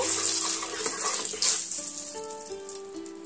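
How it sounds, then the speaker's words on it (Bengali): Eggs frying in hot oil spiced with chilli powder, making a loud hiss and bubbling sizzle under sustained tonal hums and whines, close, with no talking. "এবার আমি এই ডিমগুলো আমি তেলের মধ্যে দিয়ে ভেজে নেব।"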